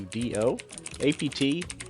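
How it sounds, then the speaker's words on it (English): Typing a terminal command on a keyboard while setting up a Raspberry Pi 5: a quick run of close key clicks with a voice talking over them. "type sudo apt upgrade and press enter"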